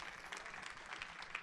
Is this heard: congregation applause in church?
yes